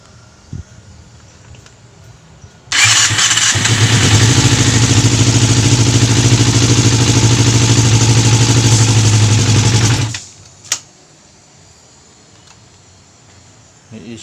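A Yamaha Zeal250 motorcycle with a hard-starting fault roars to life for about seven seconds, a loud steady engine note with a strong low throb, then cuts off abruptly, leaving quiet background and a brief click.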